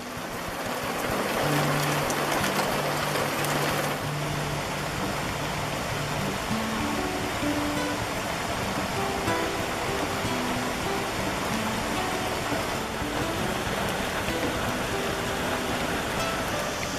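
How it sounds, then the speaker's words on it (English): Steady rain falls in a dense, continuous hiss that stays even and moderately loud throughout, with faint tonal music running beneath and no voices. "So one of the things I shot was rain."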